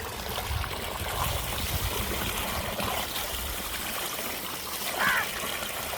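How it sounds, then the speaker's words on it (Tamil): Steady rushing of water from a 50mm borewell pipe driven by a 1500W BLDC motor pours continuously at an even, fairly loud level, with a faint splash or bird call briefly rising near the end. "தண்ணி நல்லா வந்துட்டுருக்கு"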